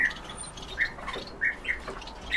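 Crossbills and crimson-winged finches in a cage, giving short sharp squawking calls in scattered bursts over a soft background hiss, close by with no talk.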